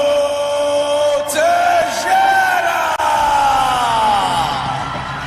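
A packed arena crowd at an Asian mixed martial arts championship roars and yells for a favored fighter's introduction, a loud, sustained wall of cheering with rising whoops layered on top, no single voice standing out.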